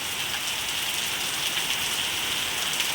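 Heavy rain pours down in a dense, steady hiss, drumming on surfaces nearby without a break.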